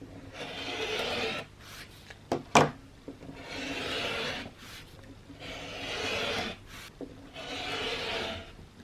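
Rotary or straight cutter slices through quilting fabric strips on a mat, repeated soft rasping strokes close and fairly quiet, with a few sharp taps in between and no talk.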